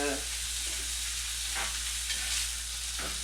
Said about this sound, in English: we got a pretty good sear going on those things